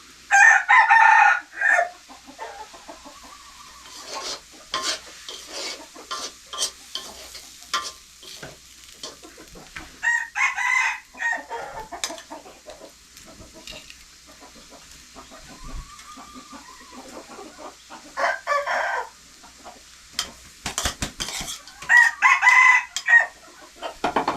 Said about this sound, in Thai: ไก่ที่ผมเลี้ยงไว้นะครับ